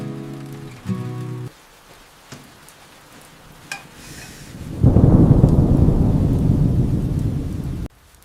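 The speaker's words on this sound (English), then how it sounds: "It's raining." Heavy rain pours down with thunder on a rainy day, a rumble early on followed by a loud, steady downpour that swells in the second half and then cuts off abruptly near the end.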